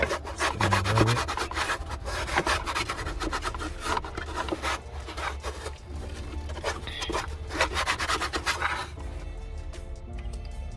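Old foam residue is rubbed off a 1992 Miata panel with steady back-and-forth scrubbing strokes, close and fairly quiet, repeating in a brisk rhythm with no voices over it.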